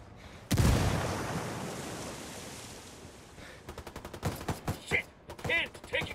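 Gunfire in Ghost Recon Wildlands: a loud burst opens, its roar tailing off, then rapid volleys of automatic shots crack in quick clusters, with shouting voices mixed in.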